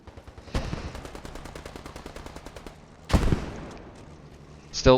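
Video game match gunfire: a steady rapid string of machine-gun shots, then a sharp loud blast around three seconds, another burst at the end, with faint voices underneath.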